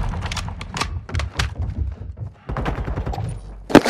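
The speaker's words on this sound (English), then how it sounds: "I'm getting shot." Rapid bursts of gunfire in the shooter game Modern Warfare 2, heard as clustered sharp cracks and rattling volleys. The shots come in uneven groups with short gaps, and a louder close burst lands near the end.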